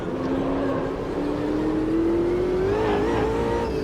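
Race car engine in the sim racing game Automobilista 2, loud and steady, its pitch dropping on a downshift and then rising smoothly as the car accelerates, with a faint whine on top.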